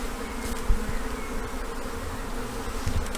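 A honeybee swarm hums at a hive entrance, a dense continuous buzz close to the ear with occasional louder passes of individual bees and low rumbling handling noise.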